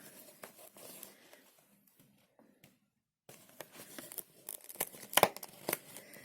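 Advent calendar windows are torn open and packaging rips and crinkles in short, close bursts, with a quiet pause midway before a flurry of sharper tearing and crackling.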